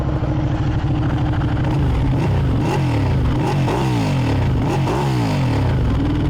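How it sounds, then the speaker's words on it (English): A loud Ducati 899 Panigale with factory exhaust idles with a deep burble, then revs sharply several times in quick bursts, each rise and fall clearly audible up close. "This is the factory exhaust, and listen to it."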